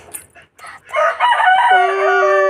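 A rooster crows loudly and close, one long drawn-out call following a few faint clucks.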